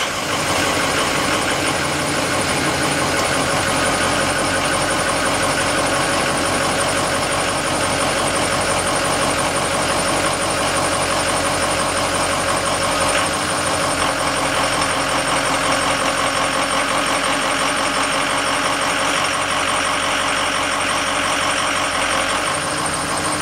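A Ford engine runs steadily throughout, its idle loud and close with a mid-range hum and faint knocking texture, kept going while old transmission fluid is flushed out.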